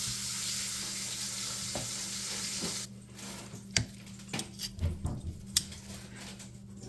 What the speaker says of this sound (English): once we finish searing in the pan